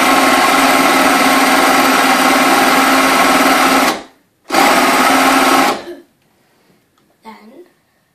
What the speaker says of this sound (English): You have to make sure that your counter is on, and then you press the lever.